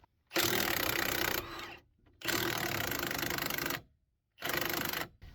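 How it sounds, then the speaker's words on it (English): Impact gun fitted with a 21 mm socket spinning strut nuts off a Dodge Grand Caravan front end, three loud rattling bursts of about a second each separated by short pauses. "we'll go ahead and grab the impact gun, and we'll put our 21 millimeter on there again, and go ahead and run these struts off of here"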